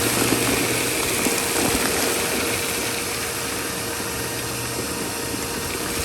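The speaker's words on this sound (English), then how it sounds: "let's just get the vacuum, suck all that out" A shop vacuum roars steadily while sucking loose sand out around a cast iron pipe stack during rough plumbing work, a constant dense broadband rush with a faint hum underneath.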